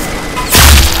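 Minigun fire in the Roblox game Arsenal, heard as a sudden loud, dense roar of rapid shots that fills the second half of a brief moment, following a noisy game background.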